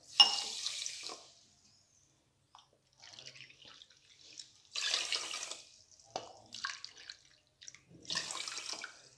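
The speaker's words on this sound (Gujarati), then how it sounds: "4 કપ જેટલું પાણી એડ કરીશું" Water poured from a cup onto sugar in a pan to make syrup for rasgullas, in three separate splashing pours with quiet pauses between them, close and soft.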